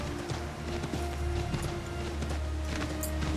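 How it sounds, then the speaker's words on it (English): A horse's hooves clip-clop steadily in the Assassin's Creed 3 video game, a regular plodding beat that is close and fairly loud over a constant low game hum, with no talking. "God, this horse is slow"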